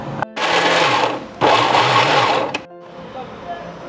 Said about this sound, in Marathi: हे सगळं आपण मिक्सरमध्ये बारीक करून घेणार आहोत